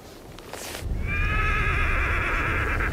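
A tired pack horse, part of a heavily loaded caravan in Mongolia, lets out a long, loud, wavering neigh close by, with rustling and a sharp noise just before it.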